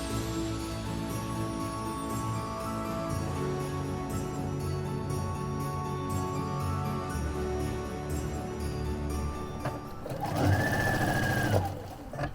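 Sewing machine stitching down the center of tape stems in a quilting project, a continuous steady mechanical whir and rapid needle hum, close and even throughout with a brief louder burst near the end.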